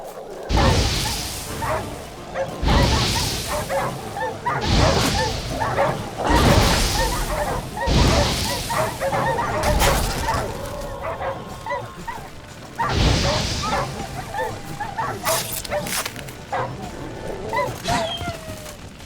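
Dogs in The Witcher 3 bark and yip repeatedly in loud bursts spaced a couple of seconds apart, mixed with whines and game ambience, while a voice talks in places.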